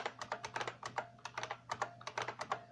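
Quick, uneven keystrokes clatter on a computer keyboard, a dense run of sharp clicks close by and fairly quiet, with no voices over them.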